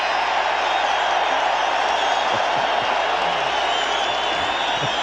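A packed football stadium crowd at a 1985 Packers–Bears game roars steadily, a dense, loud wall of cheering and noise that never lets up.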